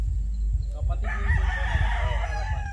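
A Boston gamefowl rooster on a gamefarm crows once, a loud drawn-out call starting about a second in, over a constant low rumble of background noise.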